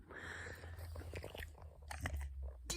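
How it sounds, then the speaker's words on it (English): A dog gnaws on a toy lying on a pillow, giving repeated soft crunching bites and chewing clicks at close range, with no voices. "He's chewing on a toy."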